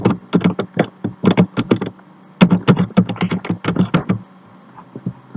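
Fingers tap out text on a computer keyboard while entering labels in SPSS, quick close bursts of clicky keystrokes in short runs separated by brief pauses, with no talking.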